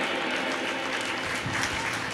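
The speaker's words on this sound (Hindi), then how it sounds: "जोरदार तालियां इनके पक्ष में" A crowd applauds steadily at a Jain honour ceremony held during a shravak sanskar camp in Itarsi. The clapping is even and sustained throughout, with no pauses.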